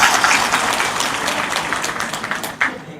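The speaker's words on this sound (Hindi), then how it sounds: "सर के लिए एक बार जोरदार तालियां।" Audience applause at a district-level workshop for Good Governance Week and Farmers' Honour Day, with a dense burst of many hands clapping that tapers off over a few seconds.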